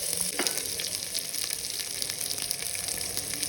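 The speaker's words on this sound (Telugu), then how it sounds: "ఆనియన్ ఇలా మంచిగా ఫ్రై అవుతున్నప్పుడు" Onions frying in a pan for chicken pulao with whole spices, a dense, continuous close sizzle with occasional stirring scrapes.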